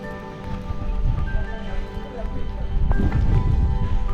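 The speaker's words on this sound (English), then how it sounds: "There's the rain." Rain falls steadily in a Rwandan rainforest, a broad hiss and patter under rumbling wind or movement noise from cycling along a trail.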